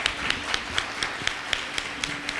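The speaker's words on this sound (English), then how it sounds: "A round of applause for the judges" An audience applauds the judges at a 2016 MLK junior and senior division event, with steady clapping and regular sharp individual claps standing out through the wash of hands.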